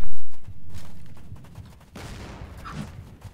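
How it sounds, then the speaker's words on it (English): Video game gunfire: a burst of loud shots at the start, then scattered sharper reports and another heavy volley later, with no talking. "Gunshots."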